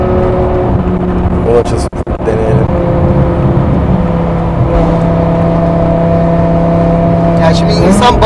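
BMW E60 M5 with its V10 engine driven hard on a Turkish road, a loud steady engine drone with rising harmonic tones as it accelerates, a brief dip near two seconds, with someone talking over it.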